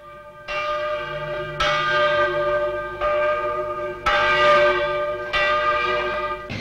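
Large bell rung loudly and repeatedly, five or six heavy strikes about a second apart, each leaving a long ringing overtone that overlaps the next.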